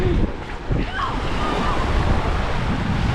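Steady surf washing onto a crowded Sardinian beach at La Quinta, a broad continuous roar mixed with gusty wind buffeting the microphone and faint background activity.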